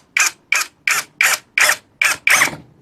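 A DWE D-019 13mm drill in drilling mode works a screw into hard wood, heard as seven sharp, evenly spaced ratcheting bursts close by, each clicking burst stopping abruptly.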